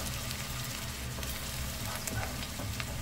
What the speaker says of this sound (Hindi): ओके तेल गरम हो गया, अब इसमें प्याज में ब्राउन कर लेती हूँ।